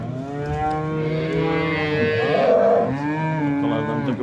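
Cattle at a livestock market in Yangiqo'rg'on, Buvayda district, Fergana region, let out a loud, close, drawn-out moo that swells and dips over several seconds, with no talking.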